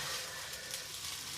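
Chicken fried rice sizzling in a pan while being mixed, a faint, steady, even hiss with no talk over it, brief and continuous.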